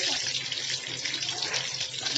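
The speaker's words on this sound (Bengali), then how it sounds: "ফোড়ন থেকে একটা সুন্দর মিষ্টি গন্ধ বেরোলে এর মধ্যে দিয়ে দেবো কেটে রাখা আলু।" Cut potatoes dropped into hot oil with tempering spices sizzle as a steady, close hiss with no break and no talking.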